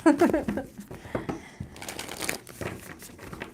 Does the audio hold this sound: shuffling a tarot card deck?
yes